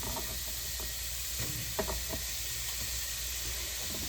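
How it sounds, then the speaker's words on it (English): Chicken and smoked sausage for a pilau sizzling faintly in a hot pot, a steady broadband hiss with a few soft crackles and stirring clicks, close and continuous without talk. "Yep, got a little bit of sizzle."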